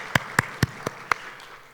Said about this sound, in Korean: 부활하신 예수님께 다시 한번 영광의 박수 올려드리겠습니다.